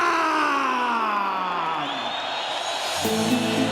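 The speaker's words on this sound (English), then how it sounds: "And you hear the crowd react as Arman Mandanov, our local ring announcer here in Kazakhstan, announces the arrival of the defending champion." Arena crowd in Astana, Kazakhstan cheers loudly for a boxer's ring announcement, a sustained roar of yelling and whooping, with a voice rising above the crowd near the end.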